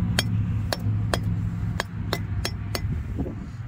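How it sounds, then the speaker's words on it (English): Hammer tapping sticks into garden soil to hold a garden edger for a raised bed, about seven sharp, evenly spaced strikes close by over a low background rumble. "just hit it a couple of times with your hammer or whatever you have"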